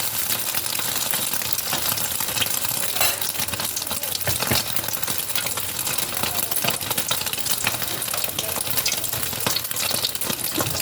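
Marinated dulong sizzles and crackles in hot oil, a dense, continuous frying hiss with quick pops scattered throughout, close and fairly loud for the whole stretch.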